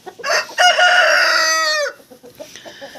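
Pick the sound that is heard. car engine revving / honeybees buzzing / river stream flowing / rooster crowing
rooster crowing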